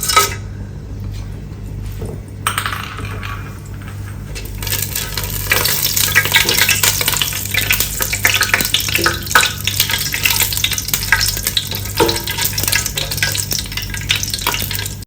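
Spices go into a hot frying pot for kabsa, giving a loud, continuous sizzle with scraping, clattering stirring strokes that grow busier after the first couple of seconds.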